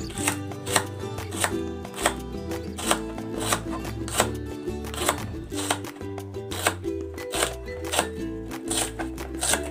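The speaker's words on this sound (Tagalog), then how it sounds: "Itutuloy ko lang ang paghiwa dito sa natitira pa nating okra." Okra sliced into small pieces with a knife on a board, heard as a rapid, even run of crisp close chops, each stroke sharp and regular, with a faint low hum running underneath and no one speaking.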